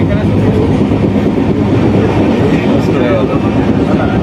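A train rolling loud and steady toward Ramrajatala station, its rumble and rattling wheels continuous and close, heard from on board.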